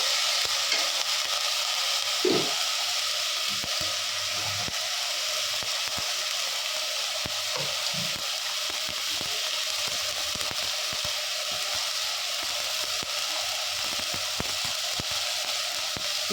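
Fenugreek greens and egg masala sizzle steadily in a pan, with occasional soft clinks and scrapes from a stirring spoon over a constant, fairly faint frying hiss.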